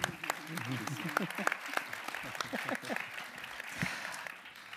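An audience at a talk on mental health and addictions applauds a guest speaker, the scattered claps fairly faint and partly under overlapping voices.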